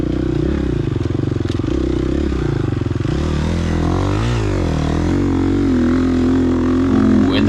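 A 2022 GasGas EX 250F dirt bike ridden on a hare scramble race course in the wrong gear, its engine loud and close, droning and revving unevenly with a labouring pitch throughout.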